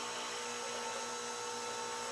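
A stand mixer with a paddle attachment working dinner roll dough hums steadily at low volume, a continuous motor whir with no breaks.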